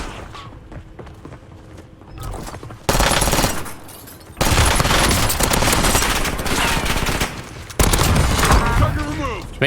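Bursts of machine gun fire in the video game Call of Duty with an AMAX rifle, loud rapid rattling in several long volleys separated by short pauses, with a voice speaking under the shooting.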